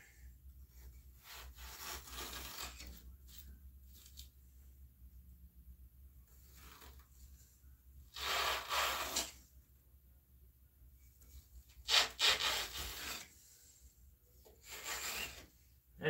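A sharp knife trims down a block for a handmade bonsai pot, with quiet scraping and several louder rasping bursts of cutting and rubbing, close up and without any voices.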